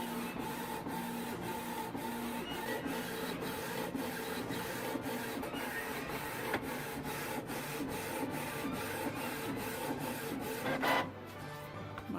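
A Canon Pixma TS202 inkjet printer prints onto fabric sheet with paper backing, its print head shuttling in a steady rhythmic whir with regular clicks, close and continuous, ending in a brief louder mechanical clunk near the end, no talk.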